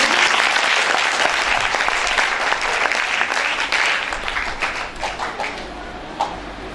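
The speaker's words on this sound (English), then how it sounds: "Please give them a big round of applause." A school-event audience applauds in a dense, sustained wave of clapping that fills the hall, then slowly thins toward the end with a few scattered louder claps. Nearby, faint murmurs sit under it.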